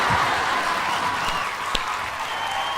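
An audience at a Tamil stage event claps steadily in a dense, continuous wash of applause, loud and sustained throughout.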